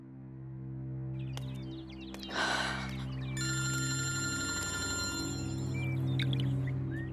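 An unanswered phone ringing, with a repeated electronic ringtone that enters partway through and keeps going over a low hum, after a short rustling burst.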